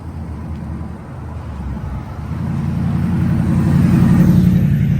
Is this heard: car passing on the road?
yes